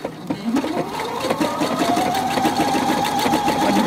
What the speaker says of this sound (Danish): Nu får vi altså sammensyet og zigzagget på en gang.